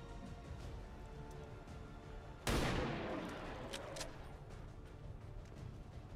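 A single loud sniper shot in XCOM 2: War of the Chosen, a sharp blast that rings out and decays over a second or two over quiet game ambience and a few faint clicks.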